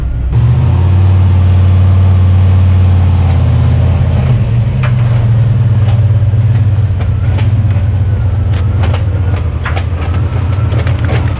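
A cheap marketplace car with a failing transmission, probably from worn input, third gear and countershaft parts, limps into a garage: a loud, close, low engine drone with a rough grinding whine and uneven clattering throughout.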